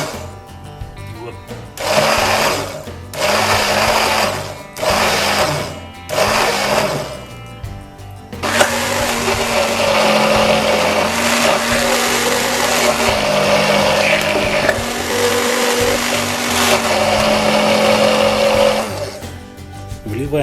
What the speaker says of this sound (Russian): И на малых оборотах потихонечку начинаем взбивать.